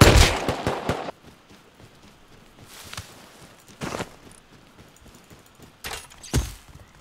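Gunfire in Rust: a loud, rapid volley of close shots at the start, then scattered single shots and short pairs separated by quieter stretches.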